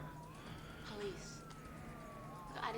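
A police car siren in the driving game Need for Speed: Undercover wails in slow rising and falling sweeps, fairly faint behind game sounds and a voice.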